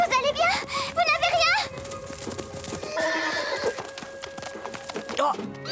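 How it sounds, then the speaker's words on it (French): Several horses in the Attack on Titan anime whinny in sharp bursts over quick clip-clopping hooves, with French dialogue woven through the sounds. "Et on dirait qu'il est accompagné de 2 chevaux en plus."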